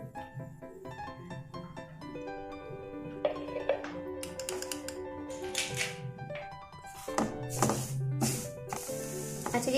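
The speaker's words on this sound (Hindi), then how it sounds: "सेवियों की भुनाई चल रही है" Sawiyaan vermicelli roasting in desi ghee with cardamom powder, a soft steady sizzle under sharp utensil taps and scrapes, with a tonal hum over it throughout.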